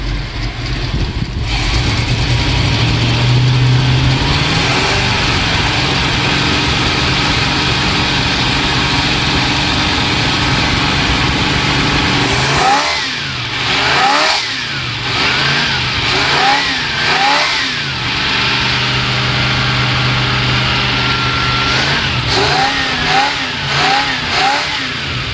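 An engine idles loudly and steadily after the choke is turned off, then revs up in several short bursts with rising and falling pitch before settling back, close and alone.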